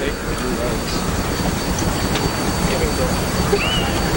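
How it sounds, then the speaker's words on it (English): A 1915 Case steam engine, about 12 tons, runs at a threshers' steam show in Wauseon, Ohio, with a steady low rumbling churn under continuous outdoor crowd noise and talk. "Next we have the case steam engine"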